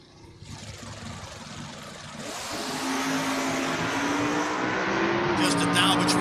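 A 1966 Nova and a 1974 Patriot Nova door-car drag racers idle then roar off the line, engines building to a loud, sustained rising drone, with a track announcer talking underneath.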